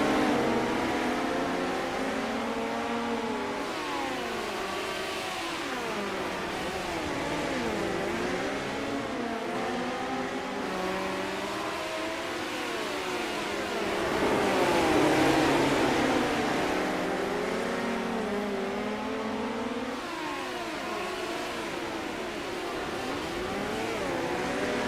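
Midget race cars howl around the track in the iRacing sim, a dense pack of high-pitched engines rising and falling continuously as they lap, loud and steady with no voices.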